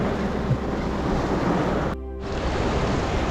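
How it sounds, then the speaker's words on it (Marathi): Heavy monsoon rain pours onto a car parked on the road to Rajmachi fort, a dense, steady roar of drumming water close around the cabin, with a brief muffled dip partway through. "बघा पाऊस भयंकर आला आहे"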